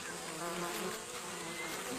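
Dense, continuous buzzing of many honeybees swarming close by at their nest in Ethiopia, a steady droning hum with no pauses.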